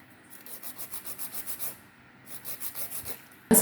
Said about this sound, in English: it's really good to file down the builder gel